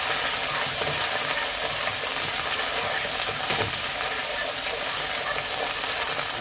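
Tomato paste sizzling and frying in a hot pan for pizza sauce, a steady crackling hiss with occasional stirring scrapes, close and alone without talk.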